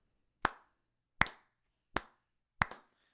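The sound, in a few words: slow golf clap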